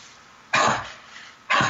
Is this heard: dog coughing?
yes